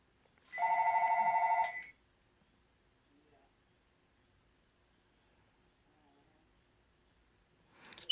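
A landline house phone rings once with a loud electronic double-tone trill lasting about a second, followed by a quiet room and a faint click near the end.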